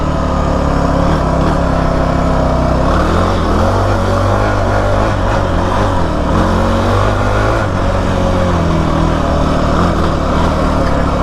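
Kawasaki KFX 450R ATV engine running hard while being ridden, a loud close rasping drone with rising and falling revs as the throttle changes, continuous throughout.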